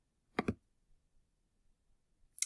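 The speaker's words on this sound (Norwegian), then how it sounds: "Da klikker du på kopier bildet." A computer mouse clicks twice in quick succession to copy an image, quiet and close, followed by faint soft ticks and one more click at the end.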